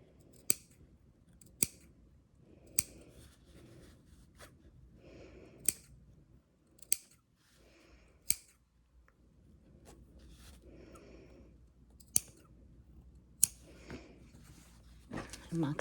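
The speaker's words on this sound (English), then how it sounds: "snip in within the seam allowance about 2/3 of the way up so that we can go around that curve nicely" Scissors snip into the seam allowance of fabric for a crossbody bag, about ten sharp, close snips spaced a second or two apart, with soft handling sounds and faint murmuring voice in between.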